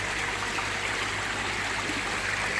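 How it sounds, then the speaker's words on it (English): Steady water trickling and splashing down a small pond cascade waterfall, a continuous broadband rush close by with no pauses. "They're great little cascade waterfalls these."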